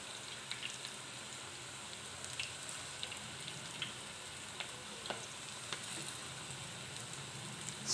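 Pakodi frying in well-heated oil on a stove, a steady close crackle and sizzle with scattered sharper pops and no talk over it.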